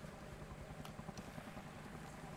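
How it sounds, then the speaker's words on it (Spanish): A distant helicopter in Arma Reforger, on a co-op mission in Vietnam, gives a quiet, steady low rotor pulse throughout, with a few faint clicks on top. "¿Qué pasa con el helicóptero que no aterriza?"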